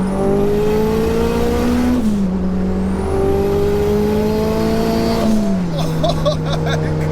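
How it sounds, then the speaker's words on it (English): A 630 bhp Mitsubishi Evo 2 engine holds a loud, steady drone from inside the car, its tone stepping down as gears change twice, with no pops or bangs. "The engine note is so satisfying too, isn't it?"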